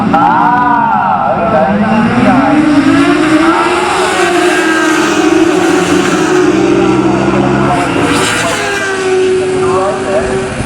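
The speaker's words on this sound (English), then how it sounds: "I wonder if that Jamie Thomas might have got a good launch there as they disappear" Racing motorcycles launching at the start of a Thunderbike Ultra and Extreme race at Snetterton, a loud blended roar of engines rising and sweeping in pitch as they pull away, with a commentator talking over it.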